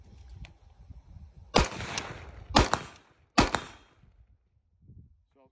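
Three sharp, loud rifle shots from a PWS rifle ring out about a second apart outdoors, each with a brief decaying tail, against a quiet background.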